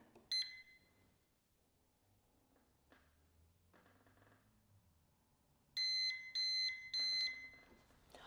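An electronic door lock sounds a few faint clicks during a reset, then three loud, high-pitched long beeps in quick succession near the end, with no voices.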